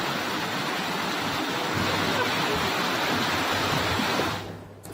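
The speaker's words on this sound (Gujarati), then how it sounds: "તમારી ટીવી સ્ક્રીન પર દ્રશ્યમાં તમે જુઓ રિક્ષા અને એક્ટિવા રમકડાની જેમ પાણીમાં તણાઈ રહ્યા છે." Floodwater rushes through a street during heavy rain in Gujarat, a dense, continuous roar close by that carries auto-rickshaws and scooters along, then fades away at the end.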